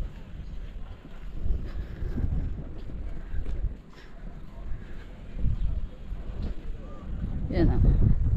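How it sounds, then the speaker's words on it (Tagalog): Wind buffets the microphone in low, rumbling gusts that rise and fall throughout at a cold fish market in Kristiansand, Norway, with a few faint background noises mixed in. "Mahangin."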